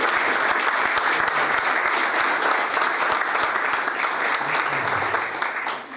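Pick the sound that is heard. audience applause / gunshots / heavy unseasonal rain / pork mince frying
audience applause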